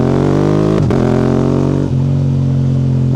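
A Yamaha R7 motorcycle engine drones loudly up close, then quickshifter gear changes cut in as two abrupt dips and pops before the engine pitch settles again.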